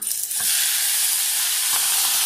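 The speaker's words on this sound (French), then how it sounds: "je vais frire le piment que j'ai mixé" Steady, loud sizzling of chili paste frying in hot oil, with a couple of faint stirring scrapes beneath the continuous hiss.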